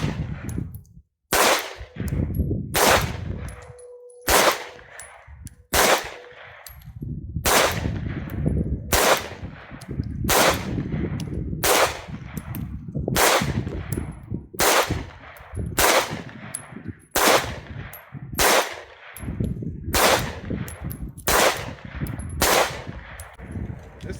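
An FN 509 Tactical pistol fires 124 grain Hornady XTP hollow point reloads outdoors: about sixteen loud, sharp shots at a steady deliberate pace, each with a short echoing tail and faint pauses between.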